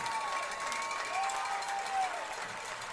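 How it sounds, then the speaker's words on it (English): High school football fans at a Lakota West Firebirds home game against Oak Hills cheer from the stands: a distant, steady crowd roar with faint applause and whistle-like tones, swelling slightly midway, with no talk over it. "We got the West fans cheering almost like they scored."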